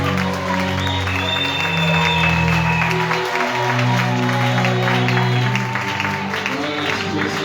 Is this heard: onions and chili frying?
no